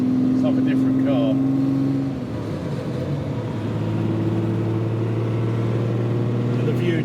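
A Ferrari 275 GTB two-cam V12 running on all twelve cylinders cruises at low road speed, a steady droning engine note with a shift in pitch partway through, heard from inside the car.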